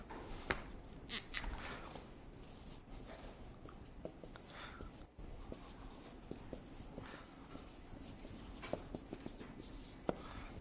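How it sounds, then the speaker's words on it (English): Handwriting math notes with a pen: faint, close scratching and tapping strokes in irregular bursts, with occasional soft murmured speech. "So let me write that."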